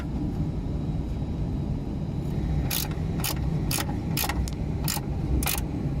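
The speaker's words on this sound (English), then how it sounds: "So you want to put one spanner on the back, and then you can go ahead and start undoing the nut." Metal spanner clicks ring out as a nut is undone on an Audi A6 C7 front lower track control arm, about seven sharp ratcheting ticks over a steady low background hum.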